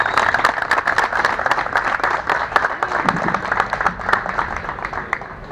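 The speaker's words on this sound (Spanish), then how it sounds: "un aplauso también muy grande para ellos" Crowd applause at an exhibition of more than 300 vintage and classic motorcycles at the Luján Museum, honoring three motorcycling brothers; steady, fairly loud clapping with crowd murmur throughout.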